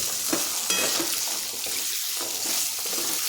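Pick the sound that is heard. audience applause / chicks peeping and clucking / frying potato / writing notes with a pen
frying potato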